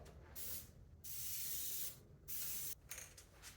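An airbrush spray-paints a glide fishing bait in three short hissing passes, each about half a second to a second long, quiet and close with brief pauses between and no talk.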